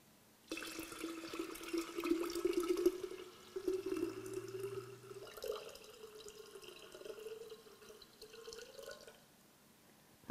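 Water is poured into a rose lemonade, making a steady splashing trickle with small bubbling variations that lasts several seconds before tapering off, with nothing else heard.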